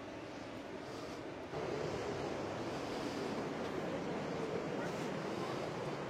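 Floodwater from a rising river rushes over a lock waterfall in Vertou, a steady, broad roar heard from nearby that grows louder partway through, with light wind noise.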